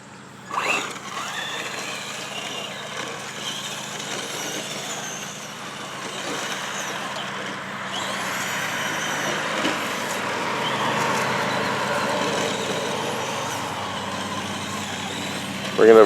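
A Traxxas Slash XL-5 2WD electric RC truck drives on a road, its whining motor rising and falling as it speeds along at moderate distance, with a few short knocks.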